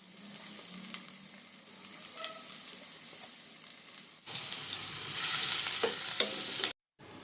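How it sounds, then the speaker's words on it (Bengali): Onions fry in oil in a frying pan for a hotel-style chicken curry. The quiet crackle and a few light clinks swell into a louder, denser sizzle partway through, then cut off abruptly near the end. "পেঁয়াজটাকে একটু বাদামি করে ভেজে নিচ্ছি।"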